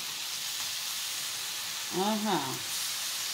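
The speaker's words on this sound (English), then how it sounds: "You have to keep stirring it. You don't want it to burn." Cabbage and onions frying in a pot for a Caribbean meatless dish, a continuous soft sizzle with a brief scraping stir and a short voiced sound near the end.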